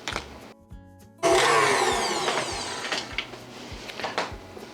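An electric mixer creaming room-temperature cream cheese for a cheesecake filling, switching on abruptly after a quiet moment into a loud steady whir that settles slightly, with faint bowl knocks.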